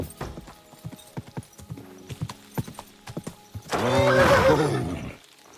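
A horse in the Kingdom Come Deliverance 2 video game clip-clops with a brisk run of hoofbeats, then lets out a loud, long neigh close by.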